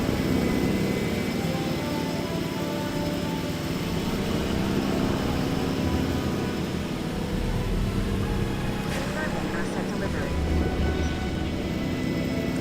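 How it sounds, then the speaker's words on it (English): Video game helicopters airlift dinosaurs, a steady, droning rotor and engine hum that runs continuously and fairly loud throughout, with no pauses. "I had to take direct control of the helicopters picking up the dinosaurs"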